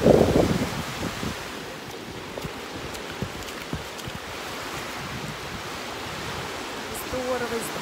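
Wind rushes past the microphone by the sea, with surf roaring in the background and a brief faint voice near the end.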